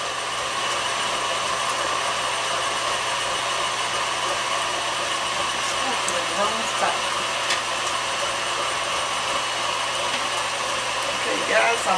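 An electric stand mixer whirs steadily as it beats cream cheese pound cake batter, a continuous mid-level motor hum running throughout with a few light clinks.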